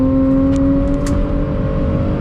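A BMW Z4 at speed on the Nordschleife gives a loud, steady engine drone with a sustained tonal whine heard from inside the car, with brief high squeaks over it.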